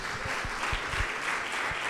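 Church congregation clapping together during a worship service, a soft continuous wash of applause with a few sharper claps standing out.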